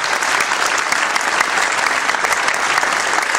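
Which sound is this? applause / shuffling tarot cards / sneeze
applause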